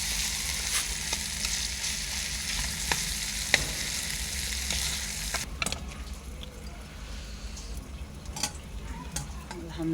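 Tilapia fish frying in oil on a brick stove, a steady dense sizzle with scattered crackles and a few stirring clinks, a faint voice briefly audible beneath.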